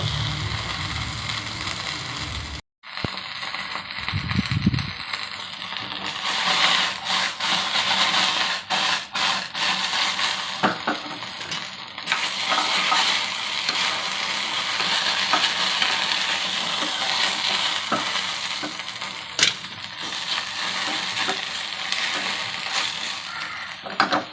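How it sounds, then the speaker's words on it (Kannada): Okra fries in a pan and is stirred, giving a continuous sizzle with scraping and clinking of the utensil throughout, and a brief break early on. "ಇದನ್ನ ಸ್ವಲ್ಪ ಕೆಂಪಗೆ ಬೆಂಡೆಕಾಯಿನ ಸ್ವಲ್ಪ ಹುರ್ಕೋಬೇಕು"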